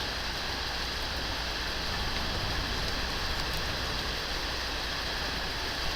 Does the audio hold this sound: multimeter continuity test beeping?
no